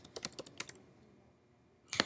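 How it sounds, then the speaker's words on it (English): Computer keyboard keys pressed in a quick run of sharp, close clicks, then a pause and one more loud cluster of key presses near the end, with no talk. "I'm going to press Alt on my keyboard"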